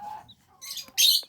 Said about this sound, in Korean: 지금 어느 닭이 또 이제 알을 낳으려고 하는 소리가 저렇게 내고 있는 거죠.